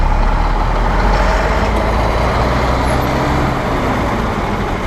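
A city bus moves through street traffic in Harbin, China, heard as a loud, continuous rumble of engines and road noise close by, steady throughout with no talking.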